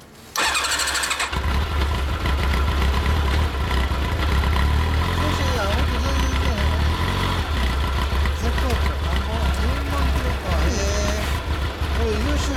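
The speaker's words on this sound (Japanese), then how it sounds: "ほんならエンジン音聞かせてもらえますか" Honda CBR750 Super Aero, a fully faired RC27 motorcycle, starts up and settles into a steady, loud close-range idle with a low throb throughout. People talk briefly over the engine.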